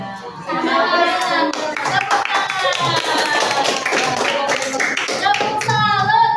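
Children in a classroom perform a rhythmic clapping routine, a steady run of hand claps close by mixed with voices speaking and chanting throughout.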